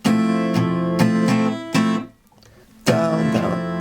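Acoustic guitar strummed in a pattern with a pulsing bounce, chords ringing in short rhythmic bursts, the fretting hand briefly releasing so the sound drops out for a moment before the strumming resumes, close and clear.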